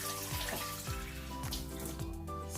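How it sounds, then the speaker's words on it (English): Water is poured into a pot of pasta cooking for a chicken pasta bake, a faint, steady splashing trickle over a low hum and sizzle, heard alone without talk. "So I'll add a little bit of water."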